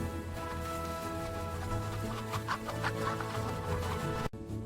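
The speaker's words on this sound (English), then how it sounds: "Let's feed the chickens. They are so hungry." Farm chickens clucking in a steady, continuous murmur of overlapping calls at moderate distance, with a few sharper clucks rising mid-stretch before a brief break near the end.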